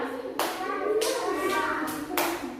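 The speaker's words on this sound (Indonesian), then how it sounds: "Yang ketujuh, tepuk tangan Kak Safir." Children clap their hands in a classroom in a few short rhythmic bursts, moderately close, with a brief pause between groups of claps.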